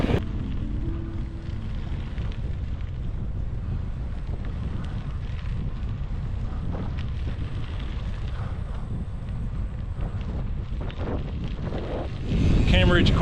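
Steady wind roars across the microphone while cycling the Lamoille Valley Rail Trail into a westerly headwind past cornfields, a constant loud low rumble that swells briefly near the end.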